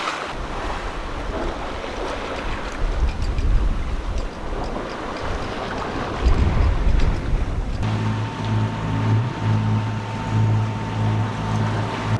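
A sailboat sails in the Grenadines as the wind picks up after a jibe, with surging waves, wash against the hull and buffeting wind noise on the mic, loud and continuous with no talking.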